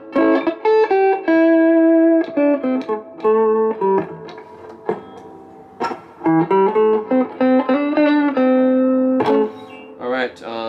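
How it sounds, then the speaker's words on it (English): An electric guitar from a Magneto Starlux played clean through a small amp with volume and tone at 7 and reverb at 5: picked single notes and chords that ring out with a lush reverb tail, loud and close, with no talking. "This amp has pretty lush reverb for something this size."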